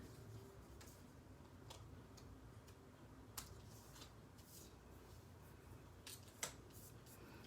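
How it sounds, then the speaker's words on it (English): Paper snips cut through card for a craft piece, giving a few sharp, quiet clicks and snips spread over several seconds against faint background hiss, with no talk. "I'm going to snip off the back."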